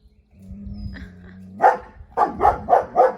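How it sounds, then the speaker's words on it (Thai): A German Shepherd barks about five times in a quick, even series nearby at a cow, after a low steady hum. "วัวเขาก็ไม่สนใจหรอกแซฟฟี่เห่าไปเถอะ"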